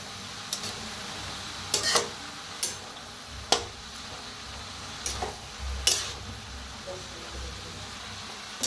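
Spice mix and vegetables stirred and roasted in a pan, with a steady low sizzle and several sharp scraping clicks of the spoon against the pan, close by, no talking.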